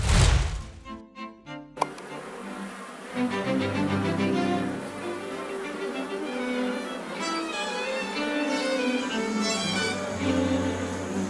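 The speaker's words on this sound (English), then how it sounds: "these are yellow jackets, one of the most hated insects" Yellow jackets buzz in a steady, wavering drone that runs for most of the stretch, after a few dull knocks and thumps at the start.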